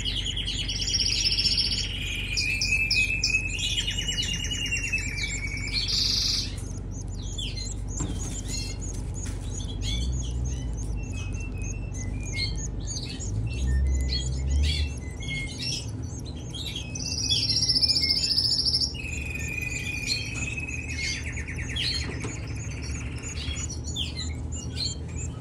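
Canary chicks chirp in high, rapid bursts, nearby and fairly loud, with busy clusters of cheeps that come and go over a low steady background hum, and no one speaks.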